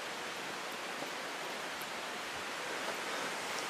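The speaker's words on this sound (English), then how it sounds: "Right now you guys can probably hear the falls right over here. Sound of rushing water is awesome." Waterfall in the Smoky Mountains, a steady broadband rush of falling water that is fairly faint but continuous and alone, with no talk.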